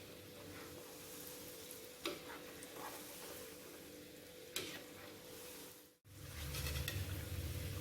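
Steady low sizzling of fishcakes (odeng) frying in hot oil over low heat, with faint crackles and a couple of sharp ticks, briefly cut off before resuming louder.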